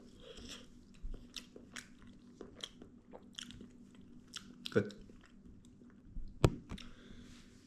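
Someone eats Spanish tortilla made with egg and potato, with soft close-up chewing and a few crunchy bites, while a person murmurs quietly now and then.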